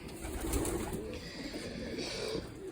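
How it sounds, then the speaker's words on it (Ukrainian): A pigeon cooing inside a pigeon loft, its low, soft, rolling coos fairly faint against the quiet ambient noise of the loft. "Це голуб, Ось син його."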